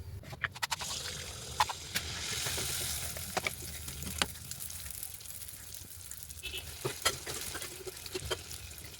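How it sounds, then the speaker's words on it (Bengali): Malpua pitha fries in a pan with a soft, continuous sizzle, overlaid by scattered sharp scraping and tapping clicks from a spatula turning the sweet fritters. The sounds are fairly faint and close, with no talking. "আমি এখন কয়েকটা পিঠে ভাজবো, চলো আমি কি করে ভাজতেছি সেটা তোমরা দেখে নাও।"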